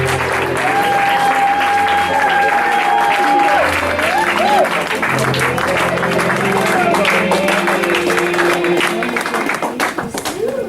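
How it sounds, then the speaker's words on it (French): A church congregation claps and cheers in steady, dense applause while a voice calls out over it, the clapping continuing throughout and thinning slightly at the end. "Acclamons le Seigneur."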